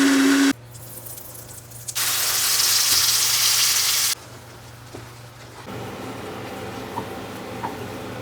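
Chopped ginger and chili go into a hot pan for koraishutir kochuri filling, with a loud bright burst of sizzling that settles into a softer steady frying hiss.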